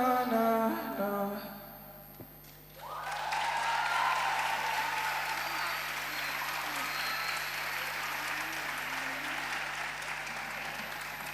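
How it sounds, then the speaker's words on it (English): Music with singing ends and the crowd at an anniversary gathering breaks into sustained applause, a dense, even clapping that carries on steadily for several seconds with faint voices mixed in. "Let's keep giving them a round of applause as they leave the stage"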